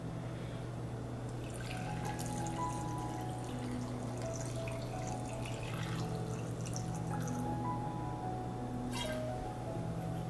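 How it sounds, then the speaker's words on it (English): Alcohol being poured into a jar of plums to make plum wine, a continuous liquid gurgle with splashy drips and sloshing close by, alone without talk. "So finally add in the alcohol."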